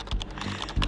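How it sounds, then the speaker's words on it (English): A video game character in Quantum Break hammers a computer keyboard, giving two loud, sharp, close key smacks in quick succession. "Do you hear him smacking on those keys like unrealistically?"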